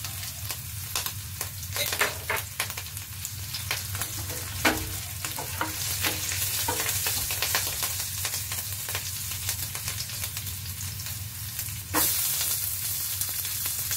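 Green chillies frying lightly in a pan, a continuous quiet sizzle broken by repeated scraping stirs, no voices.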